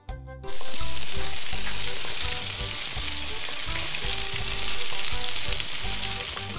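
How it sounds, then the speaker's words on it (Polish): Meat frying on an outdoor grill, recorded with a lavalier microphone, gives a loud, steady crackling sizzle that starts abruptly after a brief quiet moment and holds dense and close throughout, with no voices. "A teraz porównajmy dźwięk smażonego mięsa na grillu z mikrofonu krawatowego"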